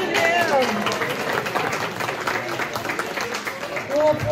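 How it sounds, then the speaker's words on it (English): Audience at a synagogue Passover seder claps in a brief burst of applause that carries through the room, mixed with voices talking over it. "We'll applaud for anything in this room."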